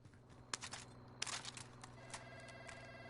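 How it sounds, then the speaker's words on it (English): A telephone rings in Call of Duty Modern Warfare (2019) multiplayer, a few short ringing bursts repeating over steady game background noise, moderately loud without talk. "Why is the phone ringing?"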